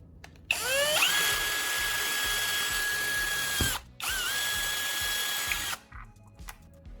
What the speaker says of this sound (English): you drill a small hole in the center of the jug cap to guide the cord out